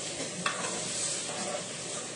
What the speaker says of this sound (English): Yes, we are still frying it.